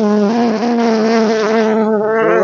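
A honey bee buzzes loudly right at the microphone during beekeeping at a hive, a steady close-up drone with a wavering pitch that fills the whole stretch with no voices.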